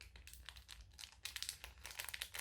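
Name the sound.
struggling to open tightly packed Japanese snack packaging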